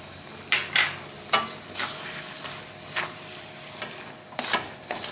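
Repeated scraping strokes of stirring a sesame-ball filling with wheat flour in a cooking pot, irregular and close, with a soft sizzle underneath.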